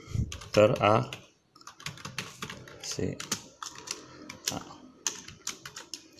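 Computer keyboard typing with key clicks in a steady run, including an enter-key press, close and clear while a person speaks over part of it, in a mail merge document session.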